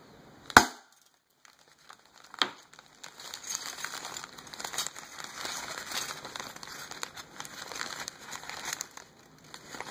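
A 3-way incandescent light bulb is broken open inside a bag: a sharp crack, a second snap a couple of seconds later, then a sustained crinkling and rustling of bag and glass fragments, close and without talk.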